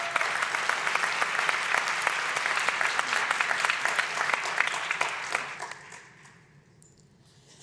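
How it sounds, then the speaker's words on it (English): Audience applause at a high-level conference session on climate change and education in crises, a dense, steady clapping from a large crowd that holds for about six seconds, then thins and fades to quiet room tone. "Please, a round of applause for Farah."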